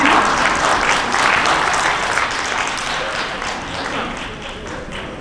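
An audience claps loudly at a panel discussion on wellbeing and mindfulness in the foundational school years, a thick, close, sustained wash of hands that barely dips across the whole stretch.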